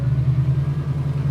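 A 1969 Chevelle with a 383 stroker big block idles close up, a steady deep low rumble with even pulsing and no voices.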